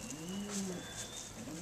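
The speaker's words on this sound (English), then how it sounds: "We have a pigeon here." A blue bar racing pigeon coos in a loft, a low, soft, wavering call repeated in two drawn-out phrases over faint background hiss, close and alone with no talking.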